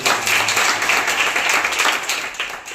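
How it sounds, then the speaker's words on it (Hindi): Children in a classroom burst into loud, dense applause, clapping continuously and evenly for a few seconds before tapering slightly at the end. "जोरदार तालियां हो।"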